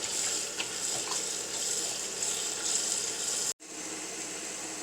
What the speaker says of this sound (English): I'm going to fill this up with water once more.